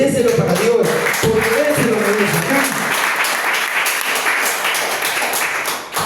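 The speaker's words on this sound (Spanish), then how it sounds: "Si es así, denle un aplauso." Church congregation applauds together in steady, dense clapping that fills the space, loud at first and thinning slightly toward the end, with faint voices mixed underneath.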